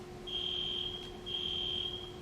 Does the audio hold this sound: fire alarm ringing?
yes